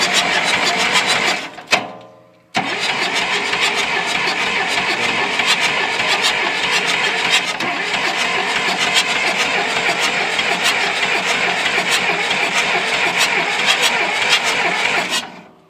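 A John Deere 2640 diesel tractor, just bled of air in its fuel line, cranks briefly, cuts out for a moment, then catches and runs with a loud, steady, close-up clatter.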